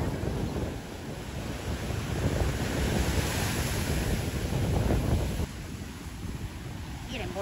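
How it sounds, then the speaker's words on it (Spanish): A rough sea breaks in surf around clam diggers, producing a continuous loud roar of waves and wind buffeting the microphone that drops somewhat near the end. "nomás que el mar está bravo"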